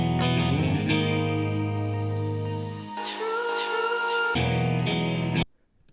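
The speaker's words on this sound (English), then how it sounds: "So we have the same guitar." Electric guitar part with effects such as distortion, chorus and echo, played back in Logic Pro, sustained chords ringing continuously with a brighter shift partway through, then cutting off abruptly near the end.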